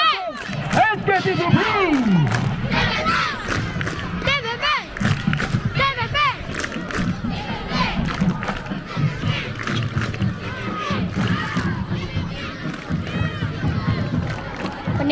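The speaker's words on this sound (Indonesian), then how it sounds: "Oh, sorakan daripada penyokong." Football supporters of SKTPT cheer and shout in a packed stand before kick-off, a loud sustained roar of many voices with rising whoops, under close commentary-style talk throughout.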